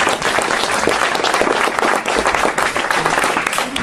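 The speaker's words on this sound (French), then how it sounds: "vous pouvez l'applaudir" A French political meeting audience applauds a speaker who is a member of the European Parliament, giving dense, steady clapping that fills the room for several seconds without a break.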